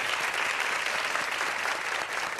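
Sustained, even applause from a large audience greeting guests at a live talk event, a thick steady roar of clapping filling the whole span with no pause.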